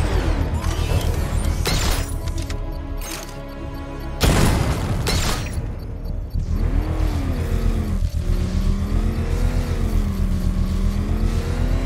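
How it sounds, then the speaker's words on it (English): A controlled explosion set off with a power winch in the Batman: Arkham Knight video game: a loud burst with rumble around four seconds in, over a continuous engine drone with swooping revs. "I can use the power winch to trigger a controlled explosion."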